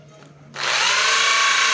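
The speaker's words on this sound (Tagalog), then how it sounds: "Kahit lakasan mo yung ng barena, hindi siya tumatalsik yung tubig." After a brief quiet hum, an electric drill starts abruptly and runs loud and steady, whirring close up while mixing thick dishwashing liquid for the rest of the clip.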